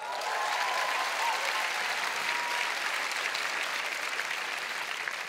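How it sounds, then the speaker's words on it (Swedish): A large audience at a Swedish YouTube awards gala claps in a steady, dense wash of applause throughout, with no speech over it. "Applåd!"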